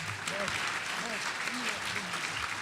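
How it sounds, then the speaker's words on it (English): Round of applause for a panel at a pretrial discussion event, a continuous, fairly quiet wash of clapping from an audience, with faint voices murmuring underneath. "Round of applause, please."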